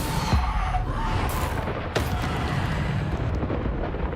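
A Bombarda explosion spell in the video game Hogwarts Legacy, heard as a dull boom and crackling blast over a noisy combat backdrop, with a sharp burst partway through.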